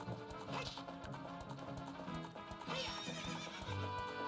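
Epona, the horse in Zelda: Ocarina of Time, lets out two whinnies over a running clip-clop of hooves, heard clearly alone against game music.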